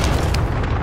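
A video game airstrike explodes in a deep, sustained boom with loud rumbling low end that fills the short moment, with no break in the roar.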